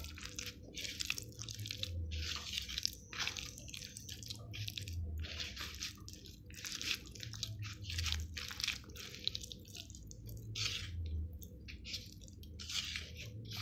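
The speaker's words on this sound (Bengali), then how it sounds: "ভালো করে মেখে নেবে এইভাবে, যাতে সব জায়গায় মশলাগুলো পারফেক্ট হয়" Potatoes being mixed by hand with spices, with wet, squishy kneading sounds that repeat in a steady rhythm, close up and soft, with no talk.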